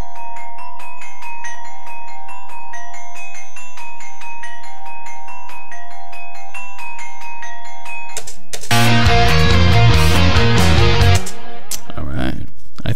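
Live glockenspiel mixed with the low end stripped out, ringing bright sustained bell tones alone for about eight seconds before a dense, loud full-band passage bursts in and cuts off abruptly.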